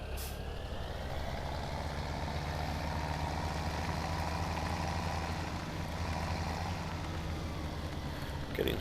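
A tractor engine in Farming Simulator 2017 starts up and settles into a steady, low idle, a constant close rumble with a short burst at the start and another near the end, with no talk.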